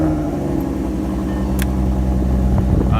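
A 2010–2014 Ford Mustang with a modified, loud exhaust idles with a steady low rumble, close and continuous, with a faint brief click partway through.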